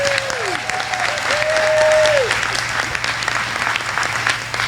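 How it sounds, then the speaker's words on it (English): Sustained applause from a banquet crowd at a sheriff's office service awards dinner, honoring 30-year recipients; steady, dense clapping at moderate volume throughout, with a faint hum underneath. "How about one more round of applause for all of our 30-year recipients?"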